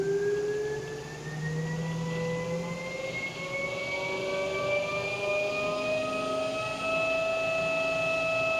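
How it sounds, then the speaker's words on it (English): An Axiom generator rotor spins under power with a steady mechanical whine whose pitch climbs slowly and evenly, several layered tones rising together over a constant hum, with no voices. "you can see the rotor spinning"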